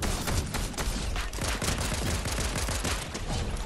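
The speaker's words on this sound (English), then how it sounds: "who is shooting at me right now?" Rapid automatic gunfire in a Fortnite Team Rumble match, a dense, loud, continuous barrage of overlapping shots with no pauses and no voices.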